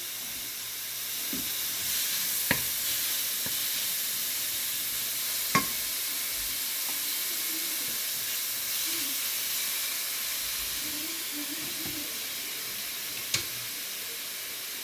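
Pork belly sizzles steadily in a hot wok, a continuous close hiss with occasional sharp pops and light stirring taps, no talking.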